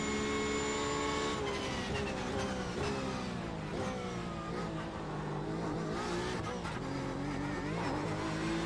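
A Porsche 911 RSR GTE and faster-class race cars at Suzuka in the sim racing game iRacing, during an IMSA sportscar race. Engine notes drone and climb in pitch as cars accelerate together, with no talking.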